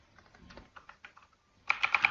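Keystrokes on a computer keyboard during a copy-and-paste: soft scattered taps at first, then a louder, close burst of four quick, evenly spaced key presses at the end.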